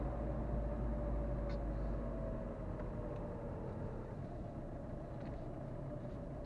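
A car in snowy Vitigudino setting off in first gear, a steady low engine rumble filling the scene with little change, heard from inside or close by with no voices.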